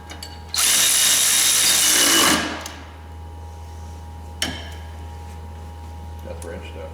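A 13 mm sway bar bolt is run down on a 2004 Polaris Sportsman ATV, with a loud burst of whirring tool noise lasting under two seconds, then a quiet shop hum, a sharp click and faint clatter.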